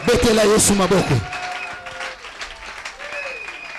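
A church congregation breaks into loud, sustained applause acclaiming Jesus, following a brief spoken voice at the start and gradually settling into steady clapping.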